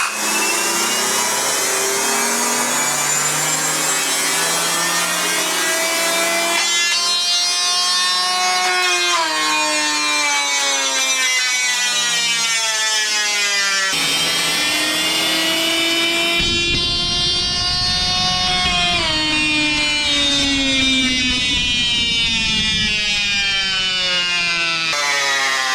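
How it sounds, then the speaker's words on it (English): A test rig spins a Continental tyre toward 230 mph, its loud whine climbing and wavering in pitch over a long run, ending in a rougher, grinding roar. "This thing hit 230 miles per hour when the tyre blew."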